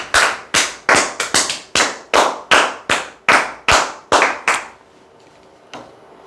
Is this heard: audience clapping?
yes